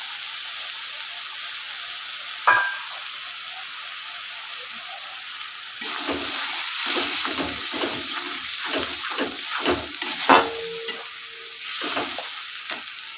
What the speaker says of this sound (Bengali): পেঁয়াজের সুন্দর গন্ধ বেরোলে ভাজায়